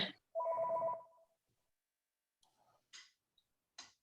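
A phone rings with an incoming call, one short ringtone burst followed by quieter electronic chirps and clicks amid otherwise quiet surroundings.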